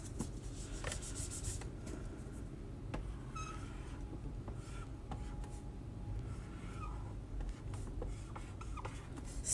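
A pencil scratches across paper, writing out a short word in faint, close strokes over a low background hum, with brief pauses between the marks.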